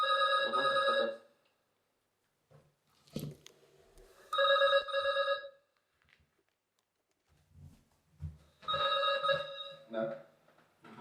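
An apartment intercom buzzes in three loud, harmonic bursts, each about a second long and spaced a few seconds apart, with short stretches of quiet talk and shuffling between them.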